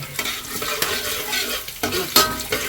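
Chopped ginger frying in a pan while being stirred for rava upma, with scraping spatula strokes and bursts of sizzle over a continuous hot-oil hiss, close and fairly loud.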